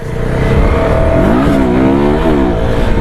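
A motorcycle engine revs hard and close during a wheelie, its pitch climbing, dipping briefly at a gear shift, then rising again in a loud, continuous snarl.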